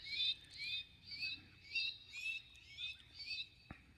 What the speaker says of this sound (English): those bird calls to me sound like something out of the jungle